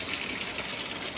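Water gushes steadily at an old spring bathing place, a loud continuous rushing splash filling the space with no talk over it.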